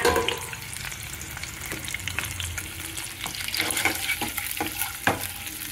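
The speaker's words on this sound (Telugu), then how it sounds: "ఈ గుడ్లు ఇలా వేయించుకోవాలండి" Eggs fry in a pan with onions, turmeric and salt, giving a close, steady sizzle overlaid with occasional scraping and tapping from stirring, and nobody speaking.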